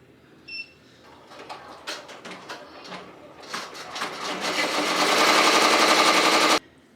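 An embroidery machine stitching, starting with scattered ticks and taps, then building into a fast, dense, loud mechanical rattle that cuts off abruptly near the end.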